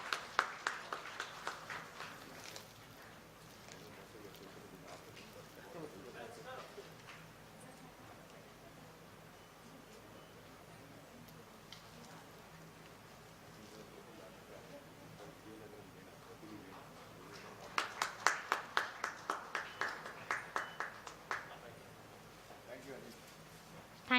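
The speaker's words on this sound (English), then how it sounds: "Please clap for the event and encourage us." An audience at a medical meeting claps in two faint, distant bursts, one at the start and a longer patter later, with a low murmur of room noise in between.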